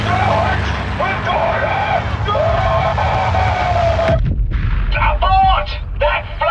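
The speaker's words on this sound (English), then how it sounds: "That flak's thick enough to walk on!" Thick anti-aircraft flak fire over the D-Day invasion pounds continuously with heavy booming bursts and a dense rumble, while shouting voices cut through the barrage.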